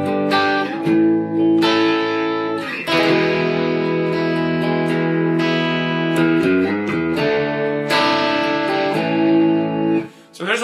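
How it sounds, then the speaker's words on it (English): Electric guitar played through a guitar amplifier with crunchy overdrive distortion, sustained chords ringing loud and close with brief breaks between phrases. "without having to have a stomp box to switch your distortion or overdrive on and off on your guitar amplifier"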